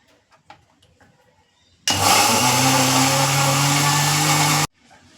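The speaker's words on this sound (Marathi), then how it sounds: "मिक्सरला मस्त फिरवलं" A mixer grinder churns buffalo-milk cream into butter, whirring loudly and steadily for about three seconds with a low motor hum, starting and stopping abruptly between quiet moments.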